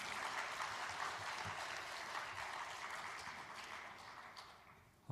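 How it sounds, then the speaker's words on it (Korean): A church congregation gives a round of encouraging applause during a Sunday afternoon service, a soft, even wash of many hands clapping that slowly fades over several seconds. "우리 격려의 박수 한번 쳐주시기 바랍니다"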